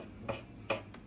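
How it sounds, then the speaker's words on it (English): A knife dices ingredients small on a board for Jamaican roast fish with red plantain, giving two distinct soft chopping taps and a fainter third one over a low steady background hum. "Just dicing it up basically"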